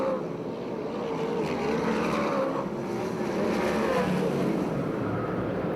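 USAC/CRA sprint cars and Ford Focus midget race cars racing on the Perris track, a continuous loud engine roar of several cars rising and falling as they pass.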